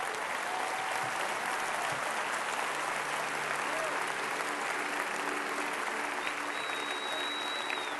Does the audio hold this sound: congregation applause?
yes